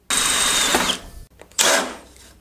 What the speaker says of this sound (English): So we just need to drill a little 6mm hole.